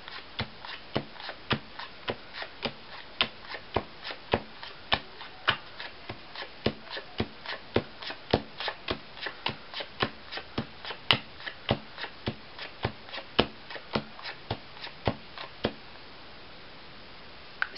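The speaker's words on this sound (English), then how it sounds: "I'm going to go through flipping the cards over face up" Playing cards are flipped face up one at a time during a card trick, making crisp, evenly spaced snaps and flicks close to the microphone, roughly two per second, continuing for about sixteen seconds with no talking.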